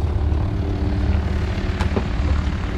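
A light aircraft engine drones steadily and loudly from nearby, a constant low propeller hum with no speech over it.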